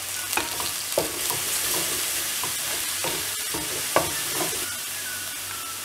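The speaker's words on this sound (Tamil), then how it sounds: "இதை லைட்டாக ஃப்ரை பண்ணிடலாம். இதிலே வந்து கருவேப்பிலையும் ஆட் பண்ணிடலாம்." Curry leaves frying in hot oil in a pan, a steady loud sizzle broken by a few sharp scraping stirs, no voices.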